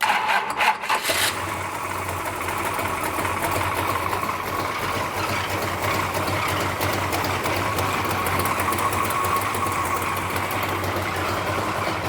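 A racecar's new engine, cranked by an Optima red top battery, catches with a brief rough burst and then settles into a steady, loud, close running drone with a low throbbing hum, without talk.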